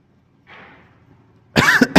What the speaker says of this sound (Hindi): तो खांसी आती है बार बार